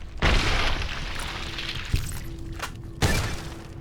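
Shotgun blasts in Fallout: New Vegas, two loud booming shots about three seconds apart, each with a short sharp decay, plus a smaller thump between them.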